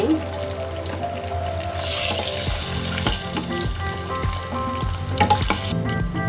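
Oil sizzles and crackles steadily as dried fish fries in a pan, with occasional stirring clinks and scrapes over the continuous hiss.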